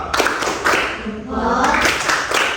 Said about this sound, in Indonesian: Sekarang Bapak ajak dulu tepuk jempol dulu biar semangat ya.